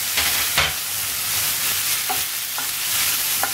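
Grated carrot, green chili and ginger sauté in a pan for idly upma, giving a soft steady sizzle broken by a few scraping stirs of a spoon, close and with no voices.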